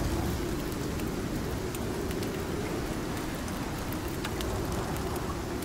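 Steady rain falls in the survival game Icarus, a continuous even hiss of drops on surfaces with faint scattered ticks, moderately quiet and unbroken, with no talking.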